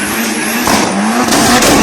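Mitsubishi Evo doing a smoky burnout, a loud, close, high engine roar over a continuous tire screech, steady throughout.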